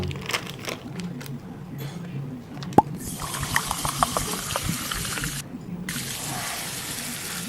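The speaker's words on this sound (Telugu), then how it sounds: "నీళ్ళు పోయానా కొంచెం" Water poured into a drink during a night of partying, preceded by a few small clinks and plops, then a steady hissing pour that pauses briefly and resumes, fairly close and moderately loud.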